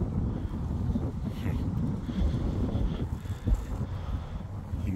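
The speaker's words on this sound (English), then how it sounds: "It's cold and windy today." Cold wind gusts across a park beside a frozen artificial lake, a constant low rumble buffeting the microphone with no clear voices.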